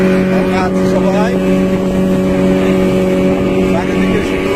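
A speedboat crossing open water toward Noakhali drones with a loud, steady engine hum and strong tonal whine, holding constant throughout with splashing water noise around it.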